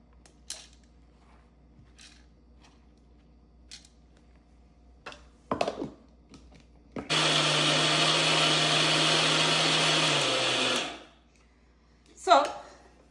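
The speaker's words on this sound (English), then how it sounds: "So now we're going to grind it. So from here to the grinder" An electric grinder whirs loud and steady for about four seconds as it grinds soaked rice into flour for puttu, bracketed by clunks and handling knocks, with a voice in the quiet stretches before and after.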